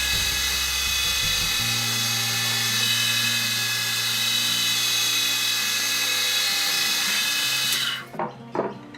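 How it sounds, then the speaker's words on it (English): A high-pitched drill press whines steadily for several seconds drilling oak, then spins down and stops, followed by a few close clunks and knocks. "I'm going to take them over to the drill press and drill them out."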